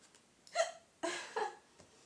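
A person hiccups several times, short sharp vocal catches spaced unevenly, close and fairly quiet with soft breathing between.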